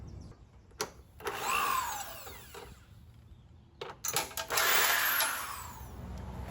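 A power drill with a socket whirs in short bursts removing engine screws from a John Deere riding mower with a Briggs and Stratton engine, spinning up and down with mechanical whine, then a longer loud run; nearby, no talking.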